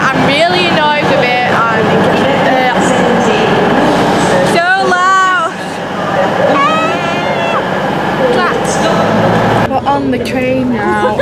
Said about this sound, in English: On the train now